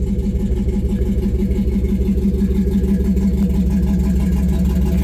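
A 1966 car's engine runs steadily nearby, a loud, even low rumble with a slight pulsing throb and no clear revving, heard alone without talk.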